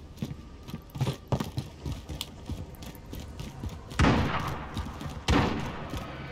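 In a video game, two sharp, heavy sniper shots ring out a second or so apart against a busy backdrop of smaller clicks and game sounds.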